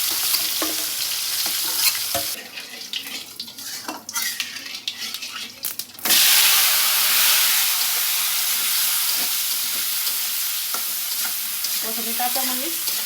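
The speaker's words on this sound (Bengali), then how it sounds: "প্রথমে কাঁচামরিচ, আলু, বেগুন একসাথে দিয়ে দিলাম, একটু ভাজা ভাজা হোক" Green chillies, potato and eggplant are stirred in a pan with clattering utensil scrapes, then a loud, steady sizzle takes over and continues with a few light clinks.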